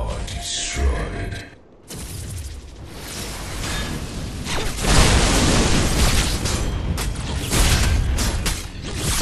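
An allied tower blown apart in the Paragon game on PS4: heavy booming blasts and grinding, creaking debris roll on for several seconds, with a voice speaking over the destruction.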